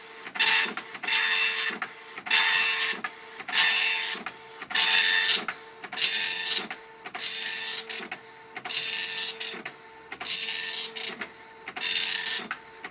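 A dot matrix printer striking ribbon onto paper with steel pins, loud bursts of rasping buzz repeating in a steady rhythm of about one per second, separated by short carriage pauses and clicks.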